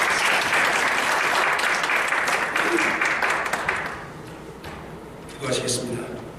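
A church congregation claps for a visiting pastor at a Sunday service, a full burst of applause that fades out by the middle, followed by a short spoken phrase.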